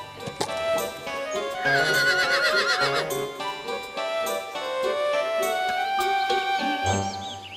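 A horse neighs with a long, shrill, wavering whinny close by, over hoof clip-clops and faint jingling, and a second rising whinny comes near the end.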